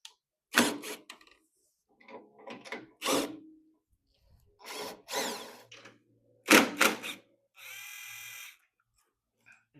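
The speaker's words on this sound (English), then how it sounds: "I'm going to start by removing a couple of these bolts here." Bolts being removed from a California Trimmer Catalyst reel mower with a power driver, in several short whirring bursts of drilling and ratcheting, close by, alternating with bits of talk and quiet gaps.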